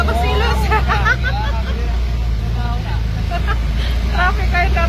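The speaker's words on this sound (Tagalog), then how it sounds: "Traffic kayo daming jeep." Busy street traffic crowded with jeepneys, a constant low rumble of engines beneath loud, close conversation in Filipino and general babble.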